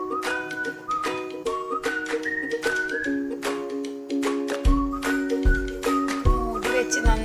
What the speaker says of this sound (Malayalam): നമുക്ക് വിസിൽ വരാൻ വേണ്ടി കാത്തിരിക്കാം. ഒരു 2 വിസിൽ വന്നു കഴിഞ്ഞാൽ നമുക്കിത് ഓഫ് ചെയ്ത് വെക്കാം.